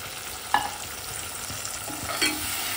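Onion and tomato puree stirred and sautéed in a pan for a tender-coconut curry, with a low steady sizzle and a few soft spoon scrapes and clinks against the pan, no voices.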